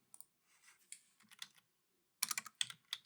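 Quiet, close typing on a computer keyboard as a search is entered into Google on Linux Mint, scattered key clicks that end in a denser burst of rapid presses, with no voices.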